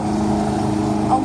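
A lawnmower engine drones steadily nearby, a loud, even buzzing hum with no breaks over the short stretch.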